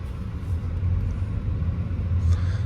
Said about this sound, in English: I'm actually just trying to get the car parked on a flat surface